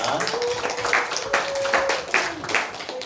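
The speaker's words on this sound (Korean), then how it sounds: "큰 박수로 우리 환영해 주시기 바랍니다" A church congregation at a Sunday service claps to welcome children from the Sunday school on Children's Sunday, a steady wash of clapping with voices mixed in throughout.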